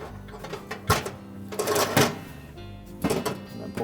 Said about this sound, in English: we'll take a pair of needle nose pliers and grasp just the terminal